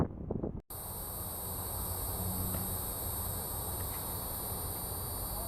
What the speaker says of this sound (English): Sounds like a cicada, doesn't it?